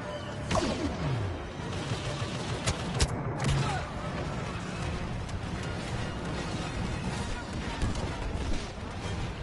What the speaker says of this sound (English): The AT-AT is about to open fire at the escape ship.